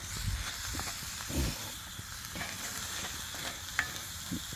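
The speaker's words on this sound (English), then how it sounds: "I have browned the venison and getting ready to caramelize these onions" Onions sizzling in a pan after venison has been browned, cooked over an open campfire; a low, even frying hiss with occasional stirring knocks and scrapes, close and fairly quiet, no talk.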